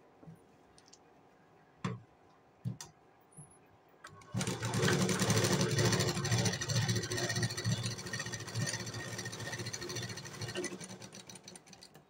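Sewing machine stitching blouse fabric for padded cups: a few isolated clicks, then a steady fast mechanical whirring run of stitches lasting several seconds before slowing near the end.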